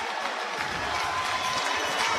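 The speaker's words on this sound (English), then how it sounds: "Crowd getting into it" A basketball crowd at a Southern Arkansas versus Arkansas-Monticello men's game in Magnolia cheers and applauds during a timeout, a steady, loud wash of clapping and shouting throughout the arena.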